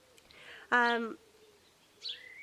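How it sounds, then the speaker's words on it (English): A bird nesting for the night in a bush tweets loudly and close by: one strong harmonic call, then a softer rising chirp a moment later, over quiet room tone. "There's a bird in the bush behind me, they're just nesting in there for the night, and so I apologise about the really loud tweeting."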